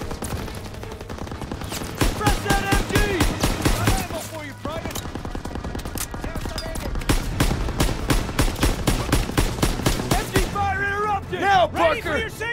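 Machine gun fire in the World War II shooter Call of Duty WW2, heard as loud, sustained automatic bursts with short breaks between them, while soldiers shout over the shooting.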